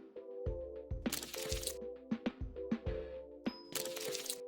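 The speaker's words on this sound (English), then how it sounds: "that is the sound of the paper being crushed" Paper crushed and crumpled, pitched up an octave: sharp crinkling crunches and cracks in bursts over a soft sustained musical backdrop, close and fairly quiet.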